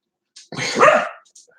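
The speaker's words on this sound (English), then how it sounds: "Chris, when my dog stops barking" A single loud dog bark, close and sharp, with a short yip before it and brief faint noises after.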